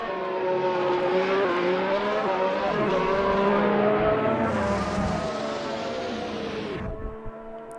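A race car in Assetto Corsa roars down the straight to the finish line, its engine note climbing steadily at high revs, loud and close, then dropping off sharply near the end.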